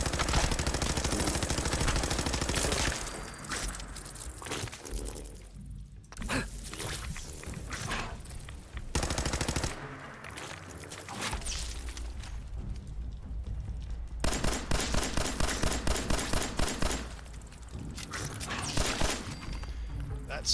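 Pipe pistol gunfire in the video game Fallout 4: bursts of fairly loud shots, including a rapid, regular run of reports, mixed with game noise, mechanical clatter and footsteps.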